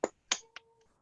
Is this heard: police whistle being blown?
no